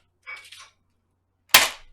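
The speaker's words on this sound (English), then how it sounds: "While Gaius and Avaria, you hear this high-pitched whine before what almost sounds like a gunshot" A gunshot-like sound effect cracks loud and close, preceded by a brief high-pitched whine, with silence between the two and no talking.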